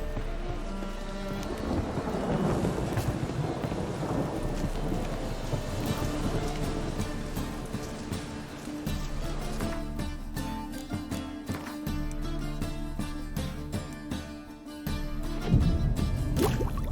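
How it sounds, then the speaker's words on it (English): Thunderstorm with steady heavy rain in The Witcher 3, a continuous loud downpour with rumbling thunder swelling near the end, no voices. "Storm, damn it."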